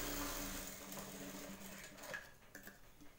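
A sewing machine stitches blouse fabric in a steady close run of needle strokes, with a few brief clicks and knocks toward the end.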